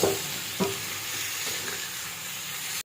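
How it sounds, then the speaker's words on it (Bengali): Salted Bengali-style chutney stirred in a hot pan, a continuous sizzling hiss with a few scraping clanks of the spoon, close and steady. "নিয়ে আবার আমি এটাকে একটু ভালো করে নাড়াচাড়া করে নেবো।"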